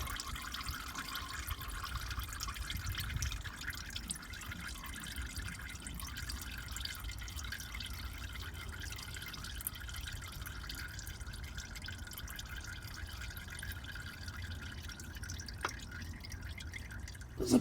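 Used oil dripping out of an engine during an oil drain, a soft run of drips and trickles that stays faint and irregular over a long quiet stretch, ending in a brief louder knock.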